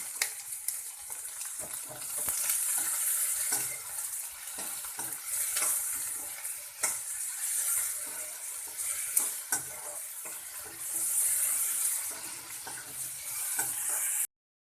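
Chopped onion frying with curry leaves and a little salt in a pan, a steady loud sizzle with repeated stirring scrapes and clinks throughout, no voices.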